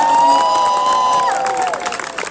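At a long jump event in the Jazbaa Sports League 2023, a crowd cheers loudly with a shrill whistle-like tone sliding over the noise, then fades to scattered, softer shouting.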